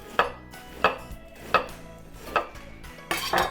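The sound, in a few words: shredding lettuce with a knife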